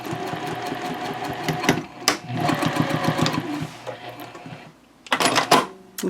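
Sewing machine stitching handbag pocket lining pieces together near a zipper, close and loud, running in steady rapid bursts with short pauses between runs, no talking.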